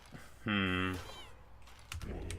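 A cat familiar in the video game Hades 2 gives one clear, drawn-out meow that rises and then falls. It is followed by quieter game sounds and a faint voice.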